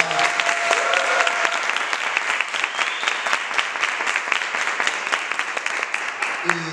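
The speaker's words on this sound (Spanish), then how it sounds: "que a Joan le enviemos un caluroso aplauso y se lo enviamos a Lyon" An audience at an anniversary event of anti-sexism sessions claps warmly, a dense, continuous round of applause close to the microphone lasting several seconds, with scattered voices beneath.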